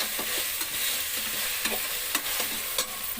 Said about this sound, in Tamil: தேவைக்கான அளவு இஞ்சி பூண்டு பேஸ்ட், நல்லா ரோஸ்ட் ஆகணும்